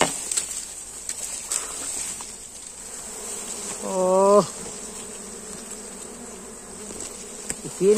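Dwarf honeybees at a wild nest caught on a B40 wire mesh fence hum in a steady insect drone, with one bee buzzing loudly close by for a moment, and faint rustling around them.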